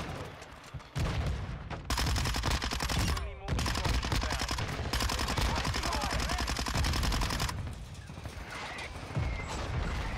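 A sniper firing in Call of Duty MW2 gives way to long, dense bursts of loud, rapid gunfire that continue almost nonstop with only brief gaps.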